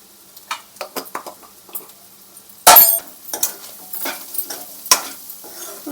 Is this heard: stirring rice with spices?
yes